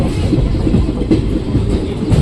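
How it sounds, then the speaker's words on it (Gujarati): A train departing Khijadiya Junction in Gujarat rumbles steadily along the tracks, close and loud, with a continuous low roar and faint rhythmic clatter from the wheels. "ખીજડીયા જંકશનથી આપણે ટ્રેન ઉપડી ગઈ ફાઇનલી"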